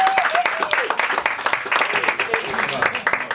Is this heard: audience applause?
yes